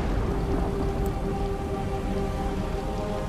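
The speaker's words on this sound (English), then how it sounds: "And of course it's raining" Rain in the Hitman: Absolution video game pours as a steady, loud, dense hiss with low rumbling underneath and no voices.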